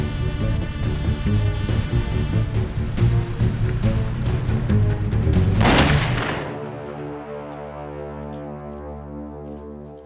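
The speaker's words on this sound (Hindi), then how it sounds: "अरे इस जेम्स बॉन्ड के पास तो गन भी है यार" Gunfire in a Hindi-dubbed action movie, a dense sustained burst of shots layered over score, building to a loud swell before dropping away to lingering music.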